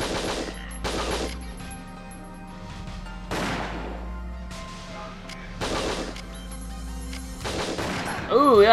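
Gunfire in the video game Winback comes in several sharp bursts of rapid shots separated by quieter pauses, with a low background hum between volleys.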